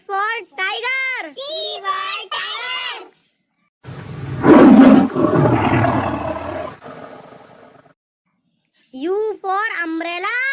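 A deep, rumbling tiger roar of about four seconds swells loudly and trails off between stretches of a child's singing and chanting voice.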